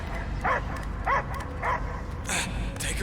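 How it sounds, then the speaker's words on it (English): A dog barks in Marvel's Guardians of the Galaxy video game: three evenly spaced yips, then two sharper barks, fairly close and moderately loud, over a quiet background. "I hear only barking."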